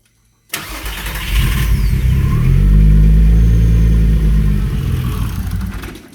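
Toyota MR2 with a VR6 turbo engine swap cranks and fires at half a second, then settles into a loud, steady, rumbling idle that holds for several seconds with a slight swell and fade.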